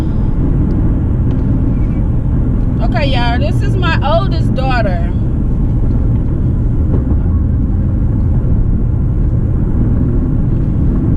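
Steady low rumble of road noise inside a moving car fills the whole stretch, with people talking over it throughout.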